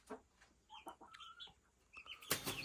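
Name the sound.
chickens and chicks in coop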